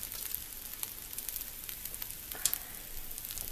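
Steady, soft sizzling of breakfast sandwich fillings frying in a pan, a faint continuous crackle with occasional brighter pops, no voices.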